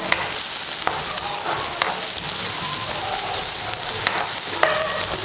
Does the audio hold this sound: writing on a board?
no